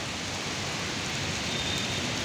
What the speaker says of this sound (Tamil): மேலேருந்து அந்த பைப்பில் ட்ரைனேஜ் பைப்பில் தண்ணி வருது பாருங்கள்